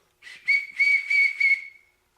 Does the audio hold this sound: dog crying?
no